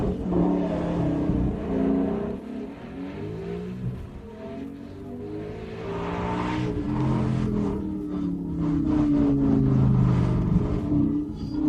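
A Lamborghini Gallardo Superleggera engine revving loudly up close, with rising and falling sweeps of pitch as it accelerates.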